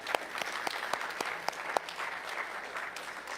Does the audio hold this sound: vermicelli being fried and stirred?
no